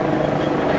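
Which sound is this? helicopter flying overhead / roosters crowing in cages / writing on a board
helicopter flying overhead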